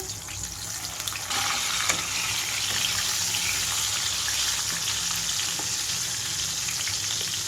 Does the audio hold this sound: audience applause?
no